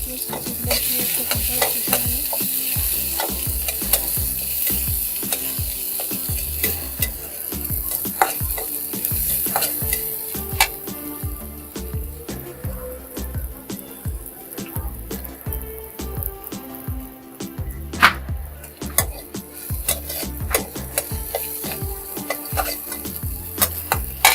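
Ingredients fry in hot oil for a small puti fish curry, with a constant sizzle under rapid, repeated stirring and scraping clicks of a spatula against the pan, heard up close throughout.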